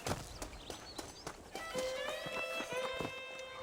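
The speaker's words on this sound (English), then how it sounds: "Getting shot, then riding a horse seems to take it out of you." Horse hooves in the video game Red Dead Redemption, a regular clip-clop of close hoofbeats, joined midway by a sustained whining tone and faint background sounds, with no clear speech.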